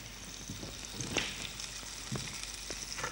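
Butter and sugar sizzle in a pan over high heat, a steady close frying crackle with small pops and a few louder spits, running alone without talk.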